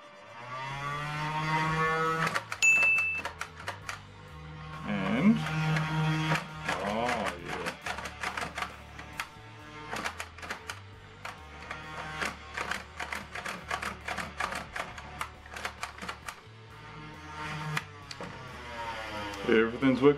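A modded Nerf Stockade blaster with its screws still out whirs through a test run: a steady motor drone carries a dense string of rapid clicking and rattling firing cycles for about twenty seconds, fairly close.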